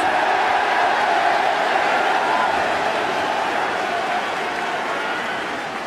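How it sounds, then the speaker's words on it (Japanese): A huge crowd of baseball fans at Jingu Stadium roars continuously after the Yomiuri Giants win the Central League championship, a dense, loud, sustained cheer with no pauses. "大歓声です"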